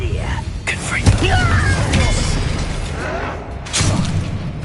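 A voice calls out as the Confringo fire-blast spell in the video game Hogwarts Legacy goes off with a sharp whooshing boom and crackling burst, followed by a second blast a few seconds later.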